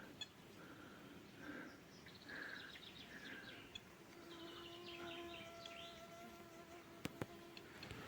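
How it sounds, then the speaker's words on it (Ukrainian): Flies, midges and beetles buzz through a hot forest yard, with thin, wavering insect drones and a few faint bird calls over steady background hiss; no one speaks. "Жара, мухи, мошки. Якісь жуки літають."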